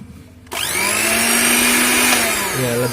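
An electric kitchen blender motor switches on with a sharp start and settles into a loud, steady whine. Its pitch shifts slightly near the end, as if the speed changed, with no talking.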